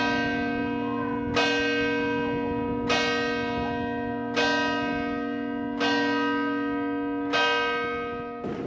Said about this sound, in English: If you go on the hour, you might even be lucky enough to witness the ringing of the bell.